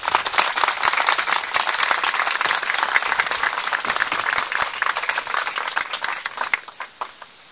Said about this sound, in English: would we please give them a round of applause?